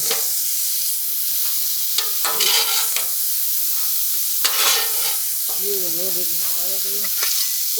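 Frozen chicken fried rice ingredients frying in peanut oil on a Blackstone griddle: a loud, close, continuous sizzle broken by spatula scrapes and stirring.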